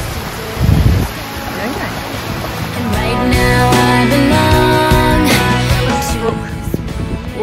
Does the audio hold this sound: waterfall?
yes